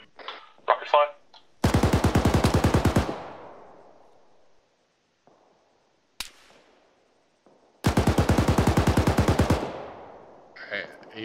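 Gunfire from an Arma 3 military simulation co-op game: two loud, sustained bursts of rapid automatic fire, each lasting about a second and a half and separated by a quiet stretch, with brief faint voices at the start and end.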